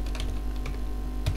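Quick clicking keystrokes on a computer keyboard while Python code is typed, a close, steady patter of taps with a couple of sharper key hits.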